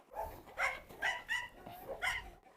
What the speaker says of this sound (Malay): anjing Doberman pengembala pertama dan satu-satunya di dunia